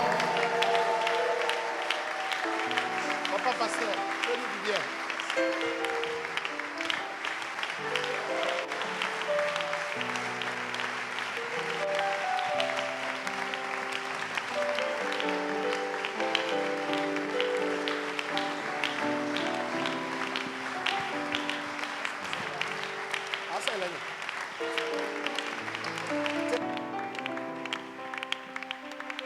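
A church congregation applauds and cheers as a pastor is welcomed, a dense, continuous wash of clapping and crowd noise under music, with a voice calling out over it.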